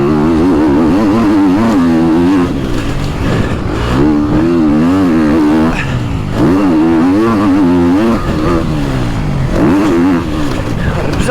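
A motocross motorcycle at a track near Trofarello, Italy, revs hard in repeated bursts, its engine note climbing and falling about four times. The bike sounds loud and close.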